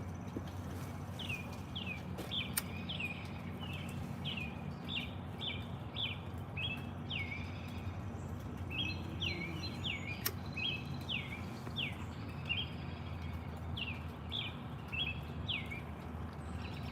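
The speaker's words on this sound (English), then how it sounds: "Them birds in the background sound like they having a good time" Birds chirp outdoors in repeated short, high, rhythmic calls. They sound moderately distant and steady over a low hum of ambient background noise.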